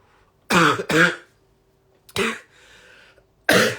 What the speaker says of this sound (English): Having a cough doesn't help